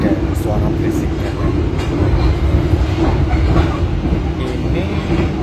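Steady rumbling and rattling inside an economy-class carriage of the Brantas train, a continuous loud rail roar with faint clicks over the wheels, heard alongside a voice speaking.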